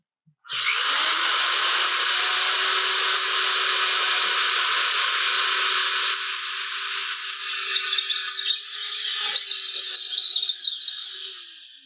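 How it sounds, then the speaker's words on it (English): Power drill boring into a handmade natural edge wooden bowl, a loud, steady high whine lasting about eleven seconds with slight rattling toward the end, no talking. "Let me grab my drill."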